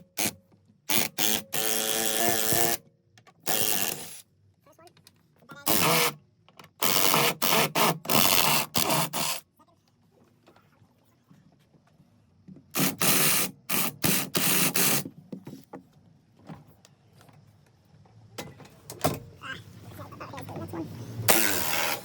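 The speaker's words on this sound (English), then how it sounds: "run to Home Depot real quick and get the impact wrench" A rapid, loud buzzing impact wrench undoes bolts on a shuttle bus seat in repeated bursts of varying length, with quieter gaps between them where someone briefly speaks.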